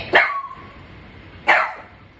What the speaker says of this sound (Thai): พี่เห่าเก่งมากอะ